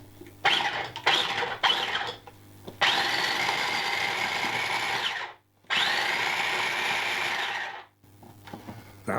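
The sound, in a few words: food processor blitzing tomatoes, chilli, ginger and garlic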